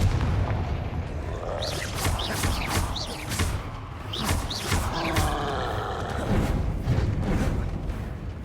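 Bombarda explosion spells blasting in the video game Hogwarts Legacy, a dense run of loud booming impacts and crackling bursts repeating every second or so over a continuous roaring rumble.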